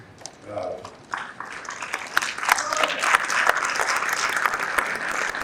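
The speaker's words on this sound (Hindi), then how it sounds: "इस टिप्पणी पर खास तौर पर तालियां उठेंगी आपकी" A voice is heard briefly at a Hindi poetry recital, then an audience bursts into applause, the clapping building quickly and continuing loud and steady.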